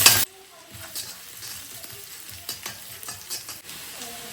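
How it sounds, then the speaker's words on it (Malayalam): Garlic sizzles and fries in a hot pan while being stirred, steady close-up crackle broken by soft scraping strokes after a brief loud burst at the start. "വെളുത്തുള്ളി ചേർത്ത് കൊടുത്തു."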